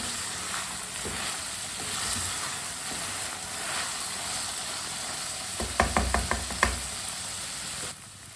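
Carrots sizzle in hot oil in a pan for spaghetti, a steady close frying hiss broken late by a few sharp stirring clatters of utensil against pan.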